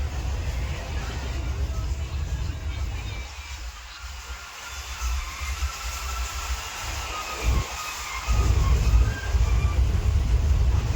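A passenger train bound for Mumbai rumbles along the track with a continuous low roar and clatter, swelling louder toward the end, heard from inside the train with no talking.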